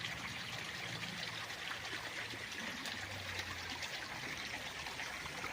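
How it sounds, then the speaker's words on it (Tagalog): Small stream at a farm property boundary in Siniloan, Laguna, a soft continuous trickle and burble of water, faint and steady with no voices. "Itong sapa na itong ating kinaroonan ngayon."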